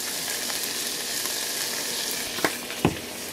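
Drained ground beef sizzles steadily in a pan for lasagna, a loud continuous frying hiss with a couple of brief scrapes or taps as seasoning goes in, and no talking.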